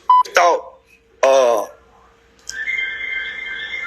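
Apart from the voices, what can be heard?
mobile phone ringing or beeping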